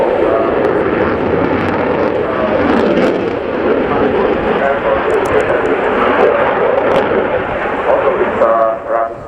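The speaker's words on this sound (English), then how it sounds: "also it's a rather small aircraft compared to Eurofighter or other types. It's really mighty." A Czech Air Force Saab Gripen fighter jet with a single Volvo Aero RM12 turbofan roars past at an air show display, loud broadband thunder, while a commentator talks over it.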